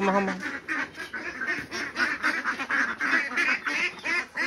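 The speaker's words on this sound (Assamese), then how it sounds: "আৰু এইফালে চাওক হাঁহবোৰ আহি আছে" Several ducks quack in quick repeated bursts, close and fairly loud, their calls overlapping in a busy chattering flock.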